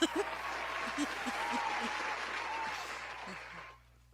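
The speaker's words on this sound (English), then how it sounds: "give him the applause." Applause from a small group or audience, clapping at moderate level with some voices underneath, holding steady before cutting off abruptly near the end, leaving near silence.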